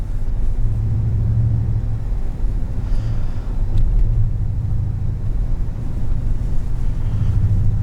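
A 2019 Cadillac Escalade Platinum cruising in tour mode, a steady low road and engine rumble with wind noise throughout, loud and continuous with no talking.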